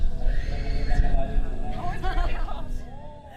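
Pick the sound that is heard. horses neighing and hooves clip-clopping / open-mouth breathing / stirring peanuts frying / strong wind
horses neighing and hooves clip-clopping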